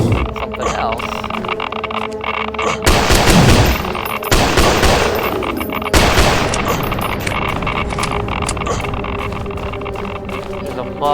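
Gunfire from the video game Dragon Strike Force comes in loud, dense bursts over steady game noise, with a sharp onset a few seconds in and another burst later.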